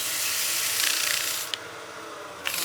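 400-grit sandpaper rubs against turned wood spinning on a lathe, a steady bright hiss that drops off sharply partway through, with faint ticks as contact ends and resumes.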